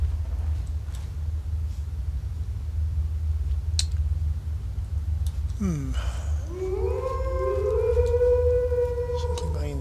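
Wolves howling in a video game: long rising and falling howls overlapping in the second half, mid-distance, over a steady low ambient rumble.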